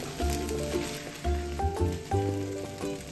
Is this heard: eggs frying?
yes